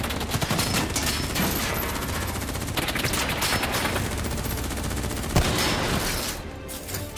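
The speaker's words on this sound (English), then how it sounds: "What the hell? Who's shooting?" Heavy automatic gunfire rattles in Call of Duty Black Ops 3, loud and continuous bursts overlapping for several seconds, with one sharper crack partway through.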